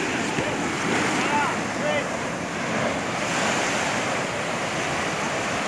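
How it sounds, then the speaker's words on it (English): Surf breaking steadily at Kuta Beach in Indonesia, a broad continuous wash of waves mixed with wind buffeting the microphone, fairly close and even in level throughout with no clear individual breaks. "And this is the Kuta beach."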